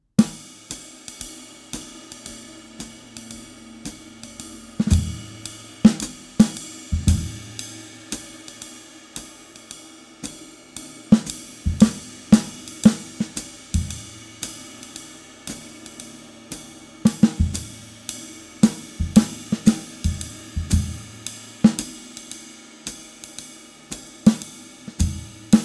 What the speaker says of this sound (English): we had this sort of call and response almost between the snare and the bass drum